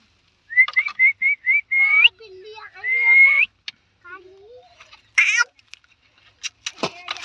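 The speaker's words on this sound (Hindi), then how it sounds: "एक तो बिल्ली का बच्चा है" A kitten mews in a series of short, high, thin cries, some rising and drawn out, close and clear against a quiet background, with a few brief voices and rustles near the end.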